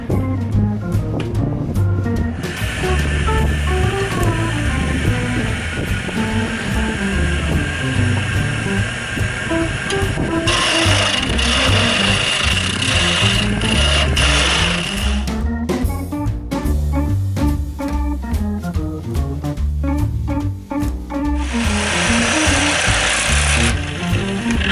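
A wood lathe spins as small end pieces of a Harry Potter style wooden wand are turned down, a steady motor whir with bursts of harsher scraping and cutting noise as the tool meets the wood.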